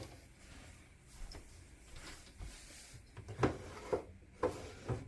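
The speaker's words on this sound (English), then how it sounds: "And the drawers all open and close." Wooden drawers on a 1910 Singer treadle sewing machine slide and bump shut, several soft rubbing scrapes followed by a few light knocks, close and quiet with no talking.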